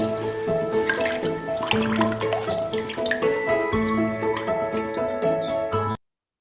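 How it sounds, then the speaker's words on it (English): Spring water splashes and drips steadily as washed butter is drained, a continuous liquid trickle with small splashes throughout before cutting off abruptly near the end. "It is then washed in spring water and then drained."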